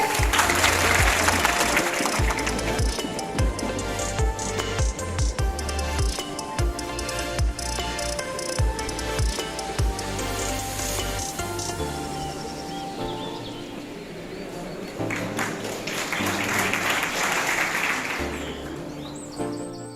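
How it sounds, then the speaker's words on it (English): Crowd at a school farewell event applauds the director and principal, steady dense clapping mixed with loud music that has a thumping beat, continuing throughout with a swell of clapping near the end. "So may we have a big round of applause for them."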